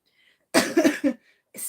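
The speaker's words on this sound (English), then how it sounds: "I have this continuous cough at the moment." A single close, harsh cough from a continuing cough bursts out in a quick cluster of hacks, followed by a shorter second cough after a brief pause.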